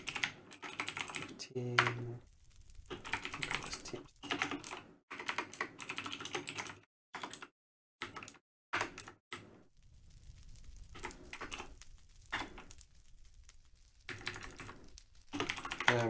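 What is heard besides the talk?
typing on a computer keyboard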